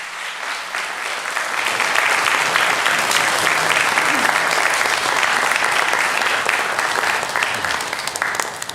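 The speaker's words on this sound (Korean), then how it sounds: "우리 장로님 나오셔서 우리 선물 전달할 때에 우리 한번 큰 박수로 우리 한번 환영해 주시면 감사하겠습니다" A church congregation at a Sunday morning service bursts into big applause, building quickly from a lighter start into loud, sustained clapping from many people that continues without pause.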